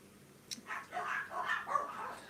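A dog barks and yips several times in quick bursts, fairly faint and somewhat distant in a garden, with a brief sharp knock early on.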